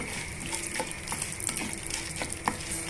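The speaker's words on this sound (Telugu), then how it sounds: "పల్లీలు పుట్నాల పప్పుని బాగా వేయించేసుకుందాము" Peanuts and roasted gram fry in oil for crispy puffed-rice mixture, giving a close sizzle under repeated stirring strokes and rattling as the pieces are tossed in the pan.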